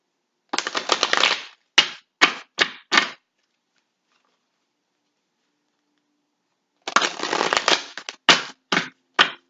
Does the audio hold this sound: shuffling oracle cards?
yes